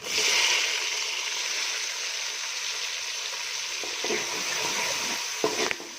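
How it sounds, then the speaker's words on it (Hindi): Chopped tomatoes hitting golden fried onions in a pan for a Pakistani kadhi pakora, a steady close sizzle with a few stirring scrapes and clatters toward the end, no talking. "देखिए फ्राई हो गए प्याज, अब इसमें कटे हुए ये टमाटर डाल दें।"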